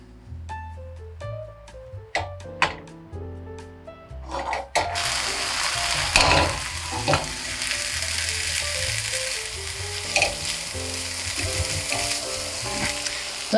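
A pan sauce with dry tarragon reduces with a loud, steady sizzle and frying hiss. Brief clinks and scrapes come first, then a continuous bubbling sizzle runs to the end.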